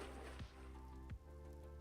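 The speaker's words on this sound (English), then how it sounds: "Is it raining out?" Rain falls in the video game Vintage Story, a faint continuous patter under steady tonal background music with occasional soft swooping sounds.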